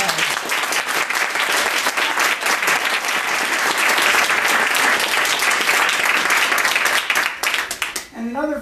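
A room full of people applauds loudly at a roast luncheon, thick sustained clapping that trails off at the end as a voice begins to speak.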